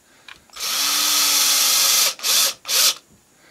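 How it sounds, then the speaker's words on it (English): A power drill drives small screws into a shop-built drill press table, whirring steadily for about a second and a half, then giving two short bursts as a screw is snugged down. "Drive that in to hold it in place, and then I'll drive in the rest of the screws."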